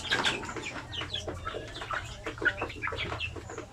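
Native sampi chickens cluck and chatter close by in a farm pen, with rapid overlapping clucks and short calls rising and falling in a busy, continuous flock sound at moderate volume.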